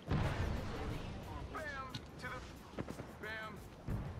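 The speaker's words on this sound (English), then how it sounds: "Whoa, where'd that grenade come from?" Grenade blast in Apex Legends, a loud close burst at the start followed by scattered sharp gunfire and impacts, with someone talking excitedly over the action.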